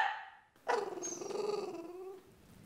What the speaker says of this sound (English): This is our dog, Toby.